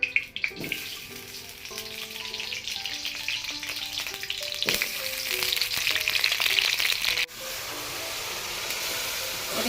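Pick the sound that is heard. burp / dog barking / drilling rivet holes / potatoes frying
potatoes frying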